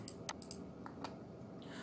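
A computer keyboard clicks faintly as a passport number is typed, a few light, separate keystrokes spread irregularly across a quiet room.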